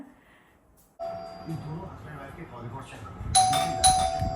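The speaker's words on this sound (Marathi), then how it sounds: "जर कमी बेल वाजवा उघडते ना एवढं कोणी होस घेते काय बेलवर" A home doorbell rings twice in quick succession, bright and close, over ongoing household talk and background bustle.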